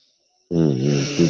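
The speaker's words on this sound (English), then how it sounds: "My cousin snoring like a motherfucker" A man snores heavily and close by, with one long rumbling, buzzing inhale that starts suddenly after a brief silence.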